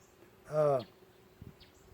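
Bees buzzing inside a month-old nuc hive, one close insect drone swelling briefly and loudly over a faint hum of the colony, followed by softer distant buzzing.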